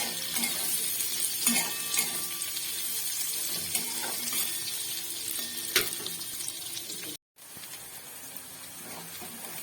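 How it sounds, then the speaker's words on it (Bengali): Two medium chopped onions frying in a pan for a prawn and spinach dish, giving a steady, dense sizzle that runs continuously with a few stirring knocks and one brief break near the end. "আর পেঁয়াজটাকে আমি একটু ভালো করে লাল করে ভেজে নেব।"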